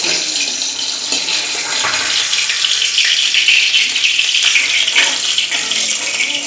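Pabda fish curry boils and sizzles in a pan, a steady broadband bubbling and frying hiss held close and loud, with sputtering bursts and no talking.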